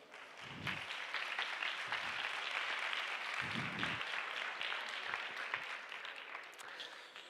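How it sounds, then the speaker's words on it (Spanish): An audience at a WordCamp Málaga talk claps steadily, a soft, continuous patter of many hands heard from a distance, with a few low thumps mixed in. "Un fuerte aplauso."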